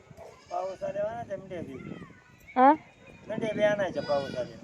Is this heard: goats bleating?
yes